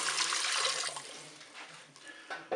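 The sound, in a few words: water being poured into the Cookeo pot for mussels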